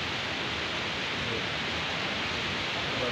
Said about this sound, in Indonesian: Kebetulan nih hujan